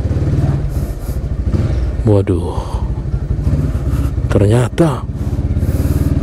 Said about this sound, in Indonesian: gangnya banyak motor